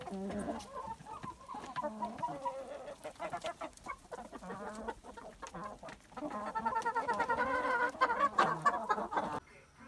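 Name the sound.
chickens clucking on the snow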